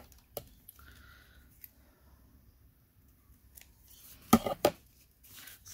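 Scissors trimming a paper journaling card, heard as a few sharp close snips clustered near the end, with scattered faint paper handling sounds before them.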